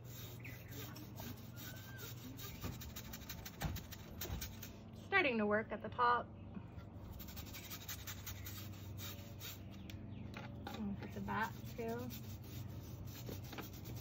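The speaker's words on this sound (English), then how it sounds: "I'm gonna see if it will come off with Goof Off and a toothbrush." Scrubbing with a toothbrush and Goof Off remover to lift white exterior trim paint off a window screen gives a steady close-up rubbing and scratching texture. Intermittent speech runs over it.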